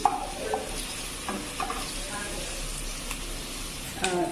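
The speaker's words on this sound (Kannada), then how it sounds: "ಇಲ್ಲಿ ಆನಿಯನ್ನ ನಾನು ಫ್ರೈ ಮಾಡ್ಕೊಳಕ್ಕೆ ಇಟ್ಕೊಂಡಿದ್ದೀನಿ" Chopped onion frying in a pan on a home stove, giving a soft, steady sizzle punctuated by the clinks and scrapes of a spoon stirring against the pan.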